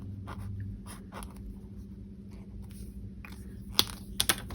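Soft scratchy strokes of a Pentel colour brush pen sketching on paper, quiet and close, coming in short irregular dabs with a few sharper taps near the end and no talking.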